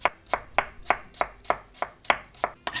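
A knife slices raw potatoes into thin strips on a cutting board, giving nine crisp, evenly spaced chops about a third of a second apart, close and clear with no voices.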